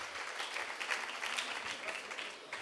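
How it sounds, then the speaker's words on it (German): An audience at a drumming club event gives a round of applause for everyone who took part. The clapping is soft and fairly distant, forming a continuous, even patter throughout. "Einen herzlichen Applaus für alle, die mitgemacht haben."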